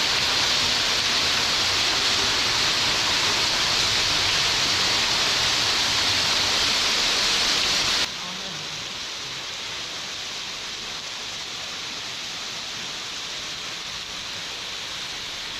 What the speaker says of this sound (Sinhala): ඔන්න අපි ආව මීයන් ඇල්ල ළඟට